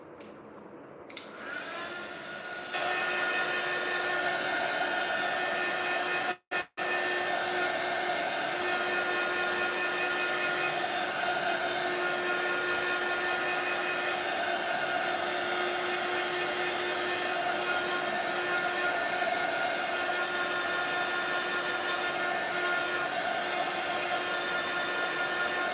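A hair dryer drying a coat of gesso in an art journal, switching on and then whirring steadily and close, with a brief cutoff partway through before it carries on.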